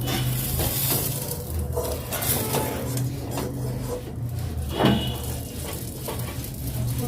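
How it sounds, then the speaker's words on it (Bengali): Eggplant slices fry in a pan in a home kitchen with a continuous broadband sizzle over a low background hum, broken by occasional soft scrapes and knocks. "যে বেগুনটা ভাজছি বাঁ হাতে করে।"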